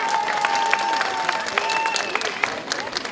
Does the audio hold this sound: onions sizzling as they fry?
no